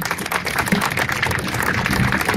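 An outdoor crowd at an autism march in Montreal applauds, a dense, steady wash of clapping that holds at even loudness throughout.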